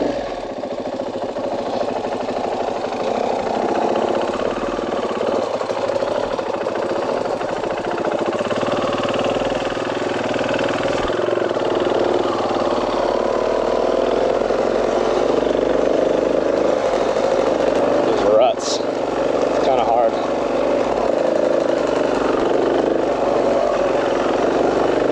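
A two-stroke dirt bike engine runs continuously on a double-track orchard trail, a steady buzzing drone that holds even and fairly loud throughout with no voices.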